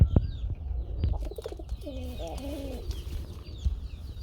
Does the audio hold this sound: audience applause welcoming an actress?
no